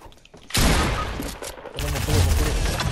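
Dense, loud gunfire from Fortnite gameplay rattles almost continuously after a brief quieter opening, with players' voices faintly mixed in.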